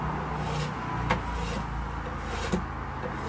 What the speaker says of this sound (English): apologies if you hear a bit of traffic noise in the background